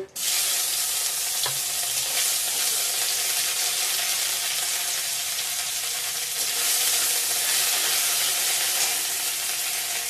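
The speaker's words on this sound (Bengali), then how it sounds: "ভালো করে ভেজে নেব ফোড়নটা। থেতো করা আদাটা দিয়ে দিলাম।" Whole cumin seeds and crushed ginger tempering in hot oil in a pan, giving a loud, steady, continuous sizzle that fills the whole stretch with almost no pause.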